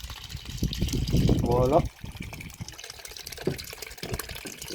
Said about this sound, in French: nous allons mettre la poche dans l'eau